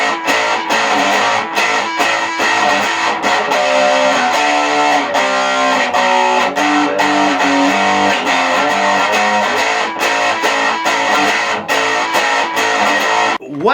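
Electric guitar power chords played with distortion switched on, loud, dense and sustained, ringing continuously for about fourteen seconds with a changing chord pattern and no talking.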